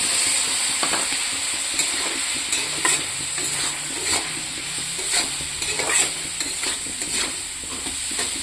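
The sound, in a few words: sautéing spices mixed with water in a pan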